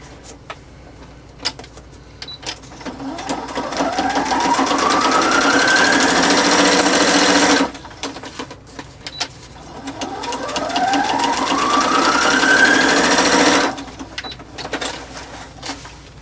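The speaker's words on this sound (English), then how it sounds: "So I think what I'm going to do is stitch it right onto the folio." A sewing machine stitches bumpy paper onto a folio in two long bursts of whirring motor and rapid needle clatter rising in pitch, separated by a short pause, with light handling clicks around them.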